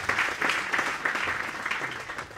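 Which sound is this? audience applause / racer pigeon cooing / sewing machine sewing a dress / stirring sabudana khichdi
audience applause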